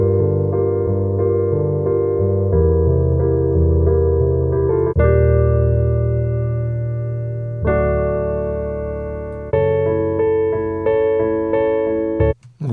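Sampled piano from a sound library plays sustained notes and chords that change every second or two, each struck loudly and ringing out before the next, ending with a short abrupt click.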